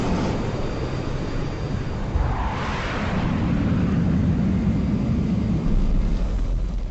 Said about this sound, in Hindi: भारतीय वायुसेना के हंटर विमानों ने लोंगोवाल के पोस्ट की ओर उड़ान भर ली।